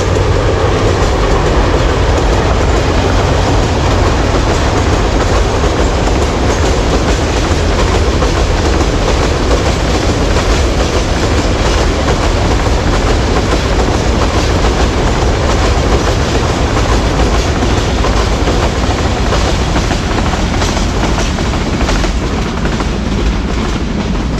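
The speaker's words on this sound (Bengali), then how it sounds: "এই মারতে ট্রেন চলে গেল" A train rumbles past close by, a steady loud roar with rhythmic clatter of wheels on rails throughout, no voices.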